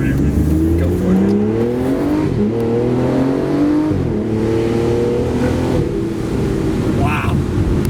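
A 580 horsepower V12 sports car accelerates hard and loud, its engine note climbing through repeated gear changes with brief dips before rising again over several seconds, close and dominant.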